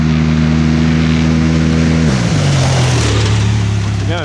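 A small engine fitted with an Evolution Powersports Sandblaster big turbo kit runs loud and close, a steady roaring drone that drops in pitch partway through and then settles into a lower, rough idle.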